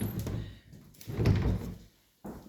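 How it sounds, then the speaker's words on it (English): Indoor doors are closed in sequence, giving several soft thuds and sliding knocks, the last one sharp and near after a brief lull. "I'm going to close these doors so we see what they look like."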